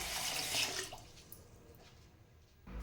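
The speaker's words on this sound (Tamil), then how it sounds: "இப்போது மூழ்கிற அளவுக்கு நம்ம தண்ணி சேர்த்துக்கலாம்" Water pours and splashes loudly into a container of washed rice, then tapers to a soft trickle before a brief clunk at the end.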